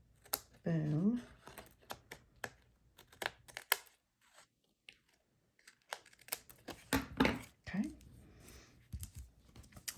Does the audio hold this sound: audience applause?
no